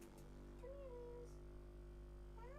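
A skittish pet cat named Ladles gives a couple of faint, drawn-out meows over a low steady hum, with a soft voice speaking nearby.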